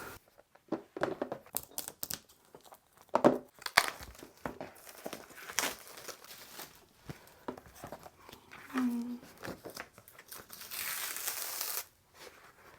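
Plastic packaging of an acrylic paint kit being unwrapped close up, with crackling crinkles and sharp tearing bursts in uneven spurts and a longer rustle near the end, fairly quiet.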